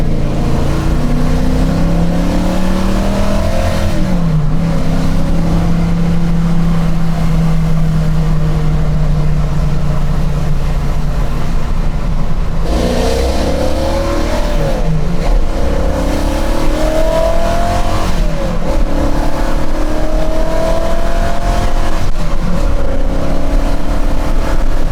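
A 1968 AMC AMX muscle car engine revs hard and loud up close, its deep rumble climbing and falling through repeated throttle blips with steady exhaust roar throughout, no talking.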